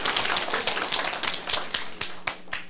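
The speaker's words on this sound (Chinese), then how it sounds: "拍手啦" An audience at a lecture breaking into a short burst of hand clapping, loud and close, fading into a few scattered claps.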